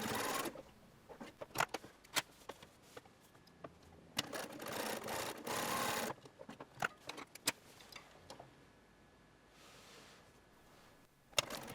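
Domestic sewing machine stitching the front of a shirtwaister dress, heard as short bursts of rapid mechanical whirring broken by pauses and small clicks, fairly quiet and close.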